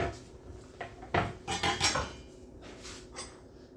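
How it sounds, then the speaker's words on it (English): Kitchen utensils and a cutting board clatter as bacon is readied for chopping: a few close, sharp clinks and knocks in quick succession, then quieter handling. "I'm gonna get the cutting board, and I'm gonna cut the bacon."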